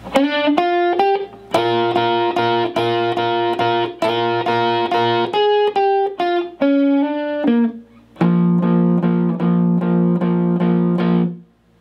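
Electric guitar with overdriven tone plays the opening intro lead line of a song, starting with a slide, then fast repeated double-stop bends and chuggy figures ending on sustained chords, loud and close with no talking.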